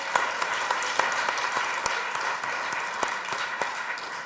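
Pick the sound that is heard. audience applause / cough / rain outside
audience applause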